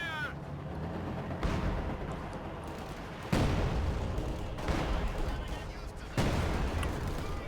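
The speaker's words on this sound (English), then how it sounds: "Su-76 throwing a barrage" An Su-76 self-propelled gun fires a barrage in a Company of Heroes 2 match, several booming impacts spaced a second or two apart over rumbling battle noise, with a commentator talking underneath.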